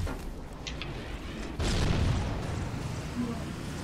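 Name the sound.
rocket launcher firing and exploding in video game Halo CE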